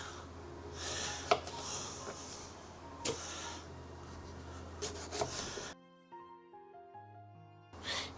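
A knife cuts through an aubergine into rings on a board, giving a few separate soft thuds and scrapes over steady background hum. Quiet tonal music follows once the cutting stops.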